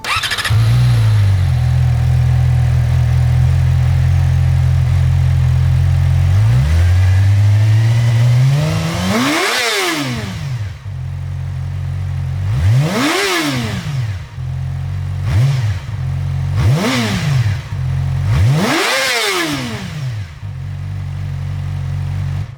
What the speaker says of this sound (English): So that is the stock exhaust sound for the R6.